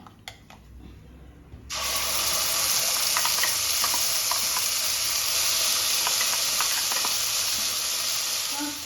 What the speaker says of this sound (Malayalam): ഞാൻ ഇവിടെ ഒരു ടീസ്പൂൺ ജീരകമാണ് ഇട്ട് കൊടുക്കുന്നത് ജീരകം മൂത്ത് വന്നിട്ട്